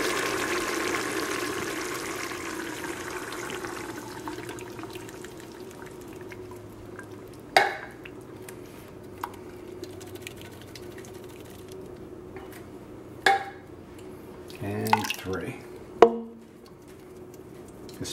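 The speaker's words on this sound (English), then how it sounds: "when I pour this in, it's going to start bubbling quite a bit" Crushed tomatoes are poured into a pot of boiling homemade spaghetti sauce, giving a soft rushing, hissing wash that gradually fades into quiet simmering, with a few sharp utensil knocks and clinks later on.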